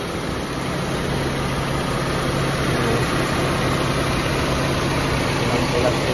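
Engine of a 2000 Honda Civic with automatic transmission idling at close range, a steady even drone with no revving, constant throughout.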